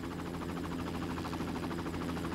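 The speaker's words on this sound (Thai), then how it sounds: "โอเคนี่เฮลิคอปเตอร์ของทีมเราใช่ไหม" A team helicopter in the video game Far Cry drones with a steady, rhythmic rotor chop and engine hum, fairly quiet and continuous throughout, with no talk.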